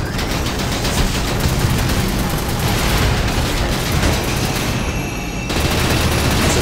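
A giant machine gun in the game Fuse fires nonstop, a dense, loud burst of rapid shots and booming impacts running the whole way through with no pauses, close and overwhelming.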